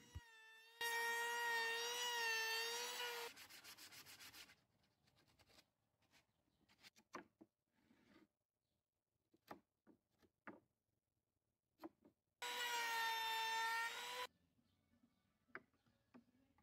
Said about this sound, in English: This started with cutting out these weird curves in all the surfaces.